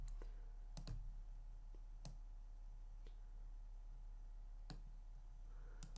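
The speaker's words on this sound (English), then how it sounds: "So right click and make selection and click OK" Sharp, isolated computer mouse clicks while working in Photoshop, a handful of crisp taps spaced irregularly over a steady low hum.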